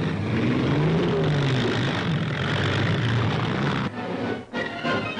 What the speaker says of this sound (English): At every point, American trucks and guns move in.